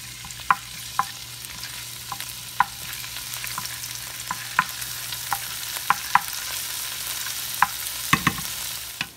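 Garlic sautéing in hot oil for an asparagus dish, a steady low sizzle broken by sharp spatula clicks and stirring scrapes at irregular intervals, close up, with no talking.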